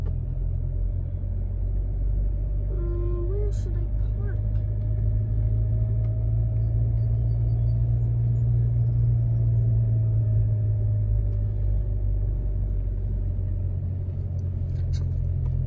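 Engine of a manual-transmission car during a driving lesson, a steady low rumble that holds close and even throughout as the car is given gas, with brief faint sounds over it.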